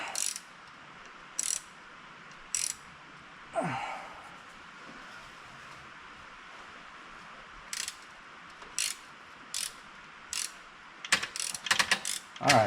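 A ratchet clicks in short, spaced bursts while loosening a bolt on a leaking transmission, ending in quicker repeated clicks, over a steady background hum.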